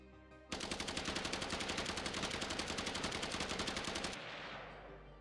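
Rapid automatic gunfire from an Unreal Engine 5 video game weapon, a loud, steady burst of evenly spaced shots lasting about three and a half seconds, then cutting off into a fading tail.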